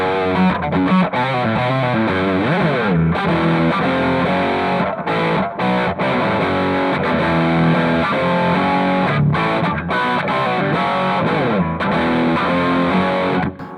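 Electric guitar riff played through the overdrive dirt channel of a Devilcat Jimmy amp, loud and saturated, with dense sustained chords and notes running continuously with brief gaps between phrases.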